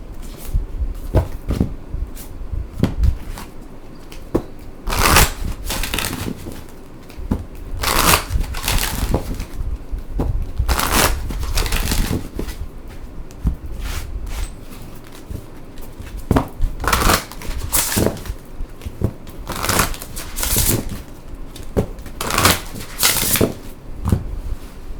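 Oracle cards handled and shuffled at a reading table, giving repeated crisp riffling bursts and soft papery rustles throughout, with no talking.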